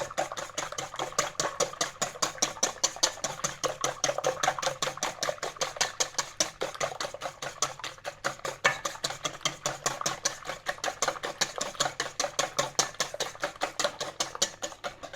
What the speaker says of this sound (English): Now you just want to whisk this up